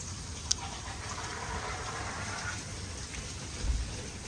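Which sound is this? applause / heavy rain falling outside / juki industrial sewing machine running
heavy rain falling outside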